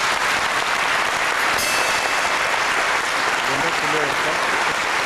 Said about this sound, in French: notre sœur Ngabiki, que nous applaudissons très fortement.